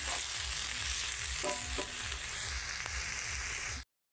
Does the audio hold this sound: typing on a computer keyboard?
no